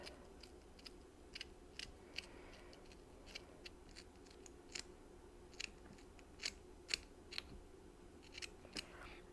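Scissors cut fabric all the way around a shape for an Easter centerpiece, making quiet, crisp snips at an irregular pace over a soft background hush, with no voices.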